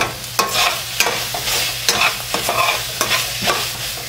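Mutton liver pepper fry sizzles in a pan with chopped coriander leaves and coarse salt, stirred in a steady run of scraping strokes over a constant frying hiss, close and fairly loud with no talking.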